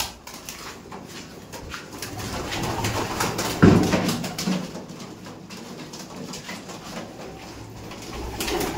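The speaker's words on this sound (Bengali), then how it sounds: "গেট খোলার সঙ্গে সঙ্গে পায়রা কিন্তু সব আসছে" Pigeons in a loft give low, soft coos over a bed of rustling and shuffling, with one louder close burst midway, and the murmur stays continuous throughout.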